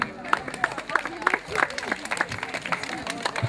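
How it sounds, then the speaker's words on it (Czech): Children clapping for the girls at a sports awards ceremony, a steady crowd of quick overlapping claps with some voices and babble mixed in. "Kluci, tleskáme holkám."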